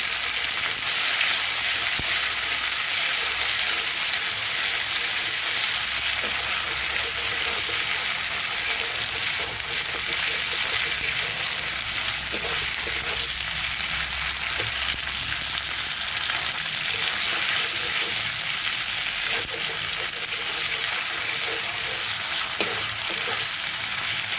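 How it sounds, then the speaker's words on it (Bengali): Spice masala with salt sautés in a pan for a mixed-vegetable shukto, a long, steady frying hiss close by with occasional stirring scrapes and clinks, no speech over it. "এবার মশলাটাকে ভালো করে কষিয়ে দেবো"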